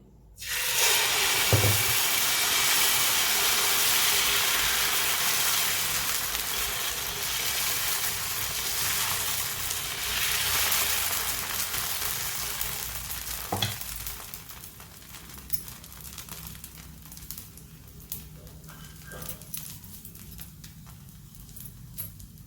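Flour sizzles loudly in hot oil in a heated pan over medium heat, a dense steady frying hiss for the first fourteen seconds that then drops to a quieter crackle, with a few scrapes and knocks.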